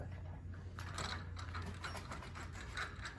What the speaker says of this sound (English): Now I loosen this clamp.